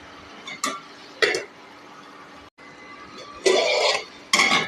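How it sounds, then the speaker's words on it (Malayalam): Fenugreek leaf and toor dal curry is stirred in a pot, with a few separate bursts of spoon scraping and clinking against the metal and quiet gaps between them. "ഇളക്കി നല്ലപോലെ ഇളക്കി ഒരു അഞ്ച് മിനിറ്റ് വേവാനിട്ട് അടച്ചു വയ്ക്കാം"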